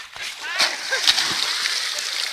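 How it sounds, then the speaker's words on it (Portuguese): Water is splashed onto a person's back at a reservoir, a continuous close splashing and sloshing with a few brief voices mixed in. "Joga água nas minhas costas aqui pra mim."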